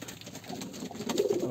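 A male pigeon fights repeatedly in a breeding loft where racing pigeons are nesting on eggs. He gives low rolling coos close by, which grow louder and more insistent toward the end.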